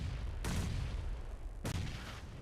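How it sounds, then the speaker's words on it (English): Grenades exploding in PUBG Mobile during an esports match: two heavy booming blasts about a second apart, each a sudden broadband burst over a constant rumbling battle background, no speech. "Oh, but the nades keep on flying."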